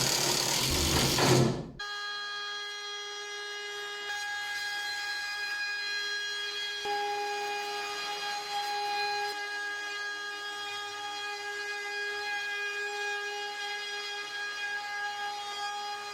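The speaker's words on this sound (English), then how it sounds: "The old workbench is just getting sanded now at 80 grit" An old wooden workbench being power-sanded at 80 grit: a steady, loud, whining hum with a sustained tonal drone that runs on without a break after a brief burst of noise at the start.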